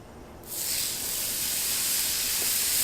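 Steak hits a hot Blackstone griddle and a loud, bright sizzle bursts up, then holds as a steady hiss.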